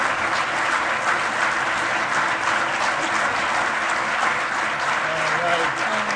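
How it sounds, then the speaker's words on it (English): Loud, sustained applause from a crowd at a university athletics Hall of Fame induction ceremony, honouring the inductees, with dense continuous clapping close by and some voices mixed in underneath. "One more round of applause for the four boys"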